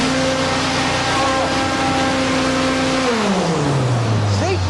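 The 35-horsepower engine of an amphibious car runs loud and steady, then its pitch drops and shifts as the revs change, a continuous engine drone close by.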